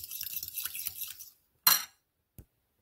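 Egg mixture for a cheese omelette being stirred in a bowl, heard as a soft, continuous scraping for about a second and a half, then one sharp clink and a faint tap, with no talking.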